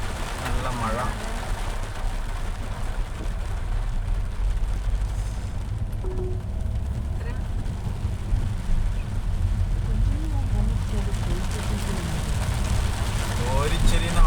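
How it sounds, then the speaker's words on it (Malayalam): Heavy sudden rain pours down during a road trip on the Yellapur–Hubli–Karwar road in Karnataka, a dense continuous roar of rain on the vehicle with a low rumbling undertone, while a person talks over it. "ഓരിച്ചെരിയുന്ന മഴ പെട്ടെന്ന്."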